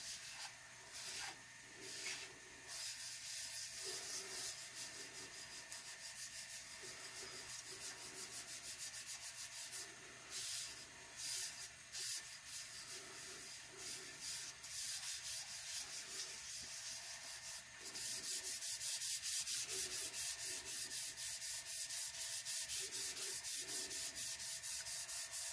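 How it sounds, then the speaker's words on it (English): Chameleon pigment powder is burnished into a nail by rubbing. A soft, continuous scrubbing hiss runs throughout, faint and close, and grows slightly brighter and louder near the end, with no talking. "Going to burnish the powder in. Try not to lose too much of it off the cup."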